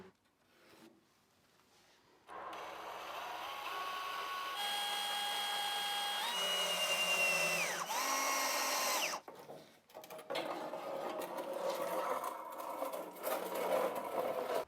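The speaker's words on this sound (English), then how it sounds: "the next thing is to connect both pieces with a hot glue gun and a few screws" A power driver runs screws into wooden frame patterns joined with hot glue for a steel boat refit. The motor whirs steadily for several seconds, its pitch rising and dropping as each screw seats, with no talking.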